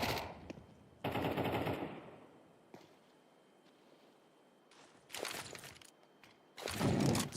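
Automatic gunfire from a Counter-Strike 2 match at a LAN championship semi-final, rifles such as the FAMAS and M4 firing in two loud sustained bursts separated by quieter in-game ambience and scattered single shots.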